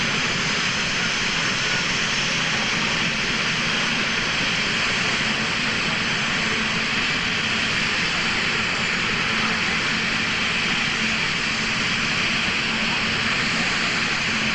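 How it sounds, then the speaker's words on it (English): A modified-class pulling tractor's engine roars loudly and continuously as its RPMs climb at a 2000 NTPA tractor pull in Inwood, Ontario, a dense, unbroken mechanical drone throughout. "Slowly the RPMs come up."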